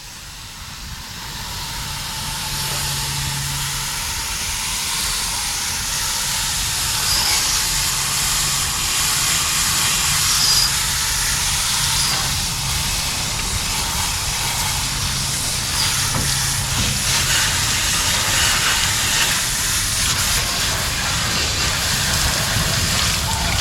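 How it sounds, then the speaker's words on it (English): Steady broadband hiss of a water spray blasting through the radiator of a 2014 Chevy Silverado truck to clear out bugs, continuous and fairly loud for the whole stretch with no talking. "I'm gonna go ahead and blow some water through here"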